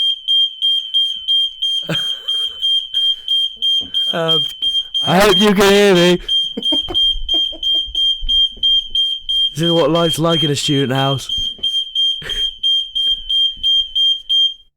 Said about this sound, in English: my fire alarm.